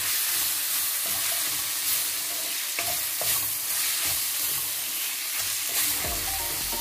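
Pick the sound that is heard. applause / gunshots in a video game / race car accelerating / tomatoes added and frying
tomatoes added and frying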